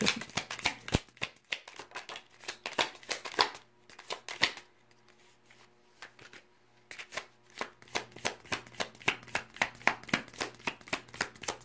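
Tarot cards are shuffled by hand in rapid bursts of crisp riffles and slaps, close and clear, with a brief quieter pause midway and no talk.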